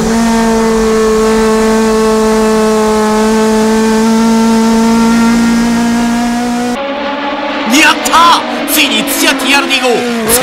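A Toyota AE86 race car engine holds a steady, strained tone that sounds flat and unable to rev higher, then cuts off into commentary and crowd noise.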